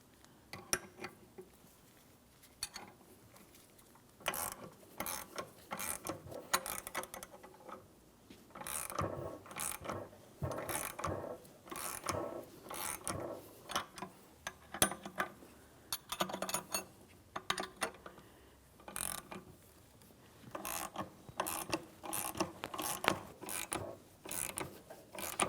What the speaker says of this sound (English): When we turn this, it's going to start pressing the pulley up against the power steering pump.